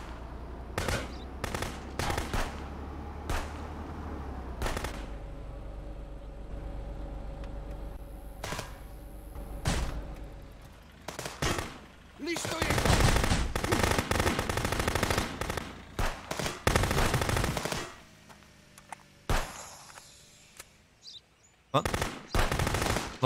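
Gunfire in Contraband Police, sharp single shots and rapid automatic bursts coming in clusters, some very close and loud, with quieter gaps between and a final few scattered shots.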